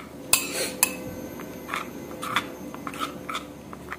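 A spoon stirs cornstarch and cucumber paste together in a bowl, making a few sharp clinks at the start and then softer scraping taps and swishes at an uneven pace, close by and with no talking.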